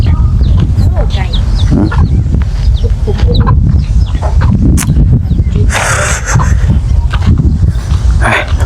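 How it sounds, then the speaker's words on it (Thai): Chickens cluck and call in short bursts while people talk loudly nearby, the bird sounds mixed in and partly buried under the voices. "ไก่"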